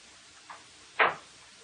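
A house's outside door swings open after a key is turned in its lock, giving one short, fairly loud creak or thud near the middle of the moment, preceded by a faint softer click, with quiet room tone around it.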